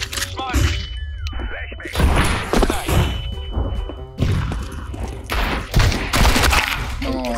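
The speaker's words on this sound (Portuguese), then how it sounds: "Três tiros." Bursts of gunfire and heavy impacts ring out in a Counter-Strike match, loud rapid volleys broken by short pauses, with people talking over the shooting throughout.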